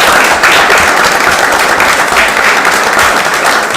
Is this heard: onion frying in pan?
no